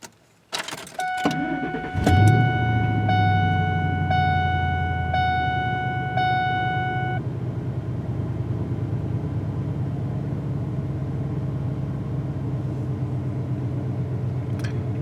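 A Ford F150 with a freshly cleaned idle air control valve cranks, starts with a burst and settles into a steady, close, rumbling idle, accompanied early on by a repeating electronic chime.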